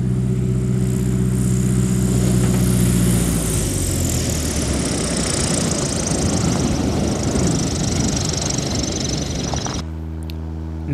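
A Cessna 170 light airplane comes in to land on a gravel sandbar, its engine droning loud and steady throughout, then dropping abruptly near the end.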